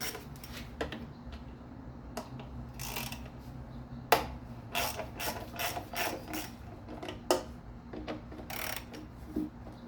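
Socket ratchet with an extension and standard socket working on a Ford VG33E engine during a partial rebuild, clicking in several bursts of rapid pawl ticks between quieter pauses, close and fairly loud with no talk.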